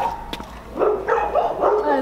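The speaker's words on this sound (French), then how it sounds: "Deux chiens, quoi." Two dogs bark in a series of close, moderately loud yaps and whimpering calls during a video shoot, the barking filling the second half after a quieter start.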